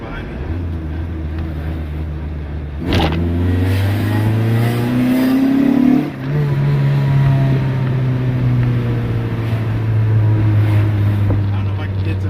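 A D16-swapped 1991 Honda Civic EF engine accelerating from the driver's seat, revs climbing steadily, dropping at a gear change, then pulling again with a droning tone, while the driver talks over it.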